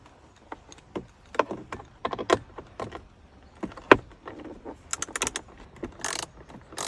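A ratchet works a bolt loose on a Hellcat, with sparse, irregular clicks and metallic ticks spaced apart, close by and fairly quiet, with no voices.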